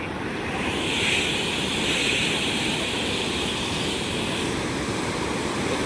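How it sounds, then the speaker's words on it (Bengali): Water released at Kangsabati Dam roars in a constant, dense, loud rush that fills the whole scene without pause. "জলের তাণ্ডবটা দেখো তোমরা, অবশ্যই আওয়াজটা হয়তো শুনতে পারবে।"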